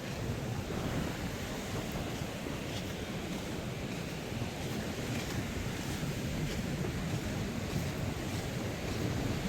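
Heavy surf pounds a coastline at Mullaitivu while strong wind buffets the microphone, a dense, loud, continuous roar of breaking waves and gusts with no voices.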